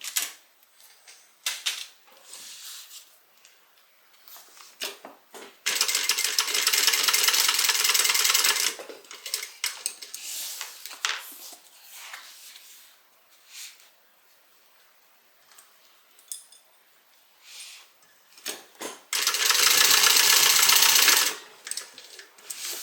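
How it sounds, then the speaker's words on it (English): A sewing machine bastes the sides of a tote bag in two loud, rapid bursts of stitching, separated by quieter handling, clicks and fabric rustling. "I'm going to go ahead and baste these on."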